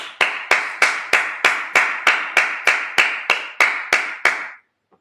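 A congregation at a Sabbath service claps in slow, even unison, about fourteen crisp, loud claps at a steady beat before stopping abruptly.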